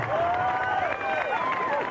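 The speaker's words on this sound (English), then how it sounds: "What a cheer" Cheering and applause ring out from a crowd at the finish of the 1991 Foster Ironman triathlon, a steady, dense wash of clapping and shouts filling the whole short moment.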